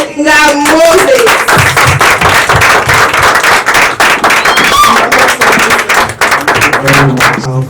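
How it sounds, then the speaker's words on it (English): Loud, dense applause from a large audience at an online-learning expo keynote, sustained throughout as a steady roar of many hands, with some cheering voices rising in the first second. "Thank you for that hand of applause"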